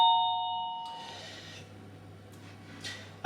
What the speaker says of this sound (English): interrupted rudely by the doorbell